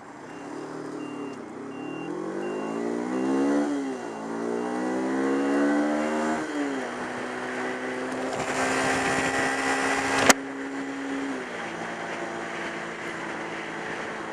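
A motorbike pulls away from a road junction, its engine note rising through rising harmonic sweeps as it accelerates, then settling into a steady drone, with a sharp click partway through.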